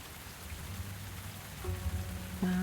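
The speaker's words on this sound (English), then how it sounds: "We've got another rainy day." Rain falling in the cosy video game Tavern Talk, a steady soft hiss of rainfall on surfaces, with a few gentle musical tones chiming in toward the end.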